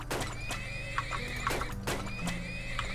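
Horses in the oil-drilling game Turmoil whinny and neigh several times over a continuous game soundtrack and hoof clip-clops, fairly close and clear.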